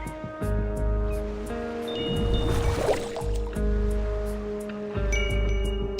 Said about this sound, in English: The waves create a chiming sound.